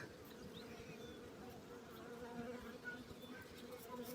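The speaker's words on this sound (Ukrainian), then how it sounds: "як ви бачите, бджілки піднялись, бджоли спокійні." A steady, dense buzzing of many bees fills the air, close and continuous, with a low droning hum and occasional higher whines of individual insects passing.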